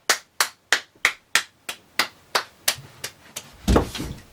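A stand-up comedian claps his hands alone, about a dozen sharp, evenly spaced claps close by, ending in a louder, messier thud.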